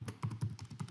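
Someone types on a computer keyboard, a quick, irregular run of close, soft clacking keystrokes.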